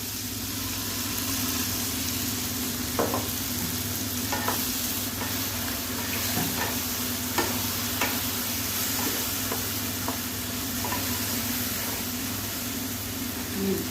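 Mustard, green chili and garlic paste fry in a pan for a snail dish, a steady close sizzle with scattered stirring scrapes and a low hum underneath, no voices.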